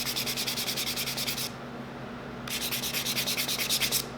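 Small wooden logo pieces being sanded by hand, a steady rhythmic scratchy rubbing with fast back-and-forth strokes, close and continuous apart from a one-second pause in the middle, with no voices.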